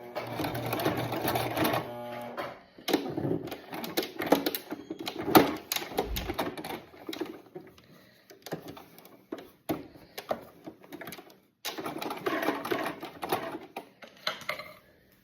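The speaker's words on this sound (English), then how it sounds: "You just need to sew a few stitches like so." A sewing machine stitches elastic into leggings in quick rattling bursts, running, pausing and restarting several times, close and fairly loud.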